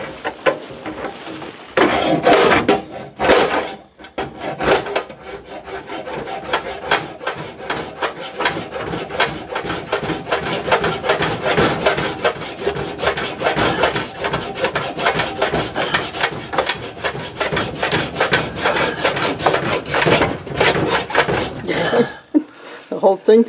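Rubbing and rasping to remove the small leftover rim around the edge during a kitchen sink installation, a continuous loud scraping friction lasting most of the stretch, with brief pauses and faint talk at the start.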